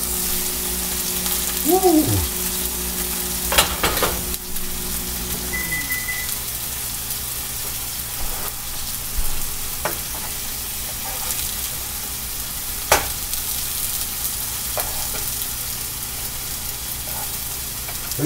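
Onions sautéing in a pan for German burgers crackle in a steady frying sizzle, with a short voiced whoop near the start and occasional sharp clicks of utensils.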